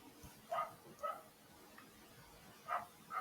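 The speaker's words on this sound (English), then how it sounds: "that's a dog barking outside" Dog barking outside, a few short faint barks spaced apart, heard at a distance through walls.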